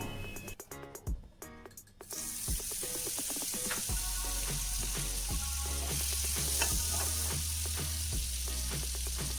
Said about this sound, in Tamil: இப்போ இன்னொரு பேன் எடுத்துக்கிட்டு பேன் சூடானதும் நம்ம எடுத்து வச்சிருந்த பட்டரை நம்ம சேர்த்துக்க போகிறோம்.